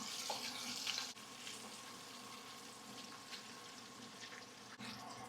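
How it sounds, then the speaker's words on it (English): Smelt fish deep frying in hot oil, a steady close hiss and bubbling crackle running throughout with a brief louder splash at the start, no talk. "The oil's ready. Now it's time to add the fish."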